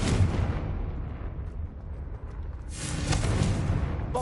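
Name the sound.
Confringo spell explosion in a Hogwarts video game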